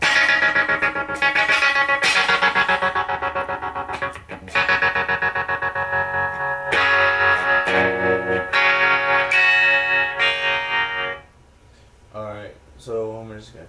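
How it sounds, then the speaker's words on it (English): Electric guitar through a Line 6 Spider III 75-watt combo amp with a tremolo effect, loud distorted chords pulsing in rapid volume wobble, then thinning into sparser notes near the end. "And then we got tremolo."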